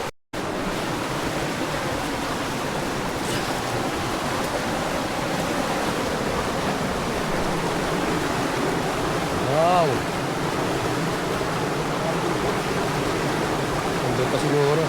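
Water rushes and splashes in a constant, loud roar, like a stream pouring down into a river.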